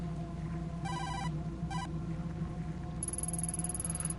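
Phone ringing in the video game Tokyo Dark, two short electronic ring bursts followed by a longer high-pitched ringtone, all over a low steady ambient hum, no voices.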